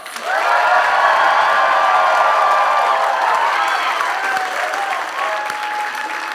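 A live audience at a Skepchic comedy event votes by applause, loud sustained clapping with cheers and whoops that swells quickly, holds, then eases slightly toward the end.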